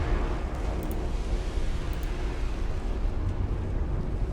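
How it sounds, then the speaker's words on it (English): Ammunition detonation aboard a battleship in Ultimate Admiral: Dreadnoughts, heard as a loud, sustained, deep rumbling roar that fills the whole stretch without letting up. "Oh, but we just got an ammo detonation."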